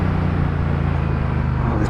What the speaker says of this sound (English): This bike sounds amazing though when it goes up and down the gears like that.